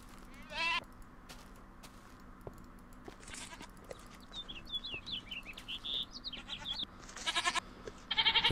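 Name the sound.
goats bleating in the video game Minecraft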